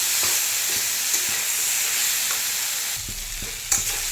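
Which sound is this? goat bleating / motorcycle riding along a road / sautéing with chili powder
sautéing with chili powder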